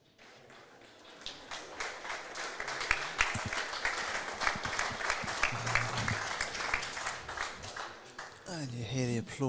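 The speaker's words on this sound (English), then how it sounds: "you hear the applause for rink 4" Applause for rink 4 at a live lawn bowls match rolls through the venue as steady, dense clapping from a crowd, fairly close and continuous, with voices chattering underneath and a louder burst of talk near the end.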